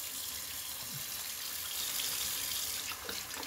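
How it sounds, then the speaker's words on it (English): A razor is rinsed under a running tap, with water pouring steadily and close into a sink the whole time and no talking. "We're going to give it a little bit of a rinse."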